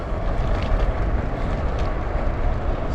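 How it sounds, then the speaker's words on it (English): Steady broadband motorway traffic roar heard from a traffic-free cycle path between Bathgate and Livingston, a continuous loud rumble with wind buffeting the microphone and no clear individual vehicles. "Back to the noises of the motorway."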